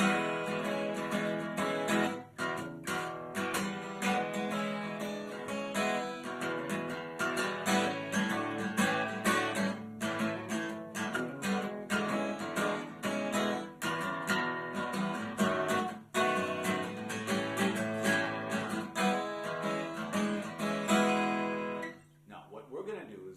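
Steady, rhythmic guitar playing a bouncing boogie pattern with chords and bass notes, continuing for a while before tapering off at the end.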